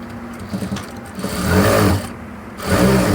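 Sewing machine stitching a Katori-style princess-cut blouse, a close, continuous mechanical whir in short bursts that rise and ease as the stitching speeds up and slows, with no talk over it.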